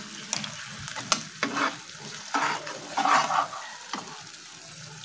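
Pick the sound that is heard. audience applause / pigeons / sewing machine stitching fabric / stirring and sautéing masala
stirring and sautéing masala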